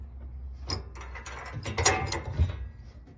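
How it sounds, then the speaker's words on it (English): Bolts being tightened on a B&W Companion 5th wheel hitch, giving short metallic ratcheting clicks and clanks in a few irregular bursts, fairly close and moderately loud, with no talking. "tighten the bolts, and make that a nice tight fit to get that locked in there"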